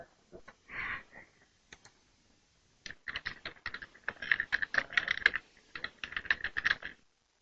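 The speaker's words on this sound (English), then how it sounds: "Type in some comments." Fingers tap a computer keyboard in quick irregular bursts, close and clear, after a short pause near the start, with a faint sniff early on.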